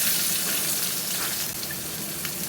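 Onion sizzling in a wok with a little leftover water, a steady close frying hiss with faint stirring scrapes, no voices.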